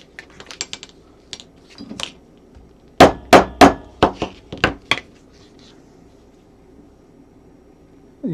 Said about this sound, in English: Where you use one of the chisels that's on a 45-degree angle.